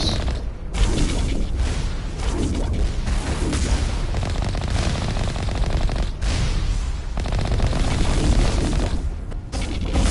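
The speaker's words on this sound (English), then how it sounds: "A lot of missiles." Missile explosions in the video game Mass Effect, a loud, continuous barrage of booms and rapid gunfire that sustains heavily throughout, with brief dips between blasts.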